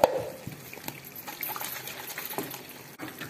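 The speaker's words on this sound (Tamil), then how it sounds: "இந்த தண்ணி ஊற்றி" Water is poured into a pot of cucumber kuzhambu cooking in a kitchen, a soft, close, continuous trickle and splash with a light clatter at the start.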